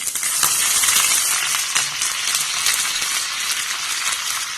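Curry leaves and green chilies hit hot oil for a sambar tempering, giving a loud, steady, close sizzle with a few faint crackles and no voices.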